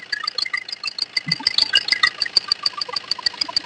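A Maruti Swift Dzire car engine runs steadily at idle, a close, even mechanical hum with a regular ticking pulse throughout and no talk.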